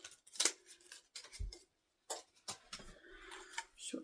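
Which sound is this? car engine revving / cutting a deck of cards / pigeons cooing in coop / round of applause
cutting a deck of cards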